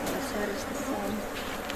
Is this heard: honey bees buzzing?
yes